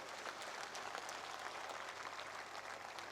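Steady, even applause from an audience at a public stage event in India, a continuous wash of many hands clapping that sounds quiet and somewhat distant.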